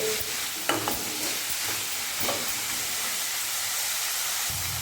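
Drumstick leaves sautéing in a pan give a steady, close sizzle, with a few light scrapes of stirring at intervals.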